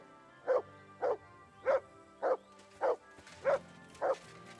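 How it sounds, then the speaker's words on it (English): A dog in the medieval video game Kingdom Come: Deliverance 2 gives seven evenly spaced, mid-pitched barks, one roughly every half second, clear and fairly close over a quiet game background. "What you barking for?"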